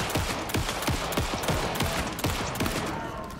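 Rapid bursts of gunfire from the video game Alan Wake 2, a steady stream of sharp shots repeating several times a second, loud and close for the whole stretch with no talk over it.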